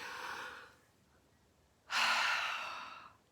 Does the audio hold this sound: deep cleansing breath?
yes